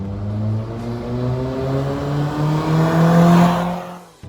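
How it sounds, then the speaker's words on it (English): Modified 1990 Toyota Sera with a raspy aftermarket exhaust, revving up steadily with a rising, buzzy engine drone that builds in pitch and loudness before cutting off abruptly at the end; close and alone, with no talking. "So take a listen to the exhaust sound."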